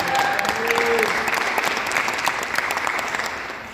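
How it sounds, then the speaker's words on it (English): A political gathering's audience gives a hearty round of applause at a banquet hall in Maspeth, Queens, loud, continuous clapping that fills the room and tapers only slightly toward the end. "Give him a nice round of applause."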